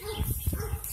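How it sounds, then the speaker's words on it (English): A dog gives a couple of short, close barks while people talk. "Pretty dog."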